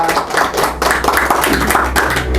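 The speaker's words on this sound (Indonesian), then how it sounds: "Sekali lagi tepuk tangan untuk Catur." A small studio audience claps for a guest on an Indonesian talk show, close and fairly loud, with uneven rhythmic hand claps throughout.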